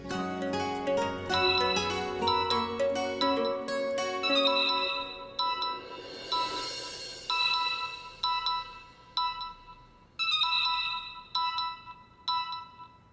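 A telephone rings with a repeating electronic melody, a bright tinkling tune that plays on and then breaks into short chiming bursts.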